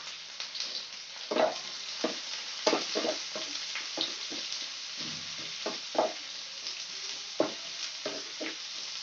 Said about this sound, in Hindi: तीन बड़े बड़े प्याज काट के रखी है तो इसको डाल देंगे सब प्याज को डाल देंगे फिर अभी इसको हल्का सा चला लेंगे